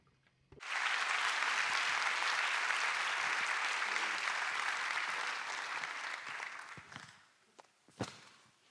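A forum audience breaks into a big round of applause that starts abruptly, stays loud and dense for several seconds, then fades to a few scattered claps and a final sharp clap.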